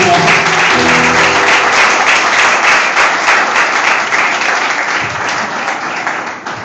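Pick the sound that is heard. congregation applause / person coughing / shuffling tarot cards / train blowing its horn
congregation applause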